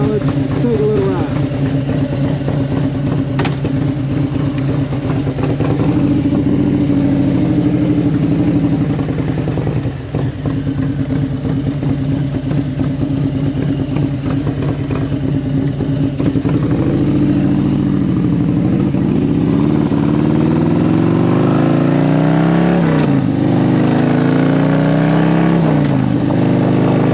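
Motorcycle ride on the road, part of a long-distance trip from Florida to a rally, with a steady loud engine drone and wind roar holding throughout, the pitch shifting as the bike changes speed near the end.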